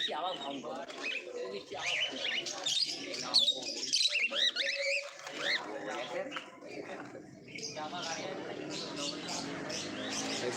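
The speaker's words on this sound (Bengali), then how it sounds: "মানে এখানেও পাখি এসছে" Small cage birds such as lovebirds, budgerigars, Java sparrows and cockatiels at a pet market bird stall in Dankuni chirp and twitter steadily, dense and fairly near, with people talking throughout.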